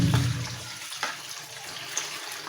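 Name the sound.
washing fish in running water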